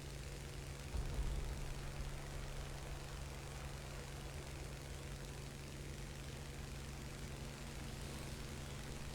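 Aircraft engine drone from an enemy plane in War Thunder realistic plane battles, a steady low propeller hum that stays constant throughout, moderately quiet with no talking.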